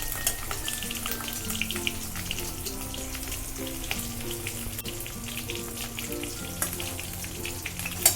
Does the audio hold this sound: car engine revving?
no